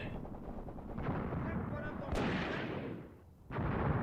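Artillery and gunfire crackle and boom through a World War II battle in Graviteam Tactics: Mius Front, a dense rolling barrage with sharp reports, machine-gun rattle and echoing blasts at middle distance.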